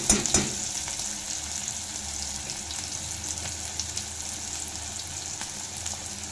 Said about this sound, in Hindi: इसको हम गोल्डन ब्राउन होने तक भून लेंगे अच्छे से।